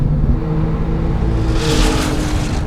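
A COBB Stage 2 tuned Porsche 997 Turbo engine on a race track sends out a close, continuous roar that swells sharply partway through and stays loud to the end.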